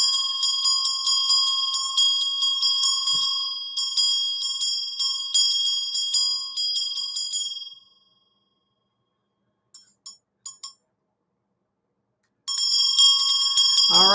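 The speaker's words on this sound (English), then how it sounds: "we're going to ring that bell again while we all jump off" Small bell rung repeatedly in quick shaking bursts at the close of a session on the Orisha Ochosi, bright and near, falling silent for a few seconds before ringing again.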